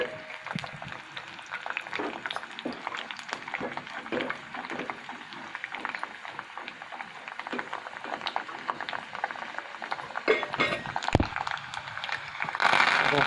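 Dried red chillies sizzle and crackle in hot oil for a tamarind rice tempering, a steady bubbling fry with small pops and stirring, close and continuous, brightening near the end.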